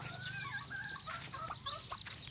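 Farmyard chickens cluck and chatter while being fed, a soft cluster of short, overlapping calls from several birds at a moderate distance.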